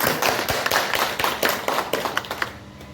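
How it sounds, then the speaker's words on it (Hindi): An audience applauds to welcome the SP at a public gathering, with dense, sustained clapping and distinct louder claps standing out from the crowd noise throughout. "मैं चाहूँगा 2000 तालियों से स्वागत करें।"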